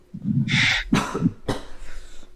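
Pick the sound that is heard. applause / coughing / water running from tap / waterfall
coughing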